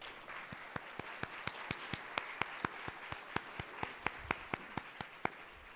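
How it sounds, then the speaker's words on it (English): Faint, evenly paced claps sound at a steady rhythm of about three per second, like a small audience applauding at a civic event. "let's give them a round of applause"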